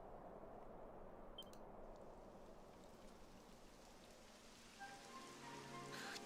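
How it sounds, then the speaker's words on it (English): Steady, faint rain patters on a surface throughout a video game scene, with a few soft clicks and a rising tonal hum near the end. "It would have to go and start raining, wouldn't it?"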